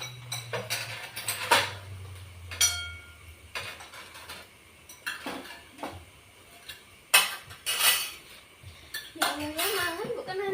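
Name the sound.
spoon and dishes clinking while eating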